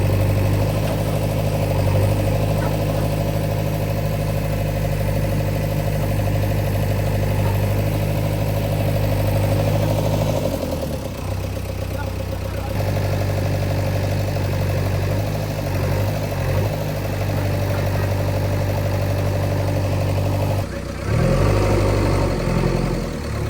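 A bulldozer engine idling in the middle of a road: a loud, steady low rumble with a constant hum, briefly dipping and shifting about halfway through before settling again.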